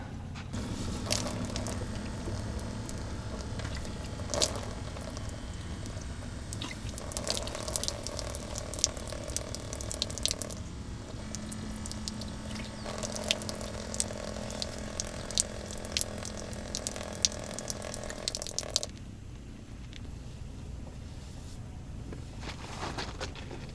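Water from a small USB-powered pump pours steadily into a kitchen sink, a continuous running splash with brief clicks of the switch, cutting off near the end.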